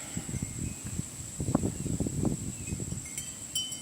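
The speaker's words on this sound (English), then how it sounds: "I hope this wind's not messing with our audio" Outdoor wind buffeting a microphone in low, uneven rumbling gusts that swell and fade, with a faint steady high whine and a few small clicks near the end, and no talk.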